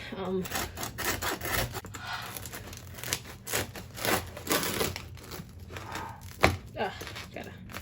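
Bread, the first loaf of a home baker's attempts, is sawn with a ridged serrated knife, giving repeated rasping, crackly strokes with crust crunching, close and fairly loud, one sharp snap near the end.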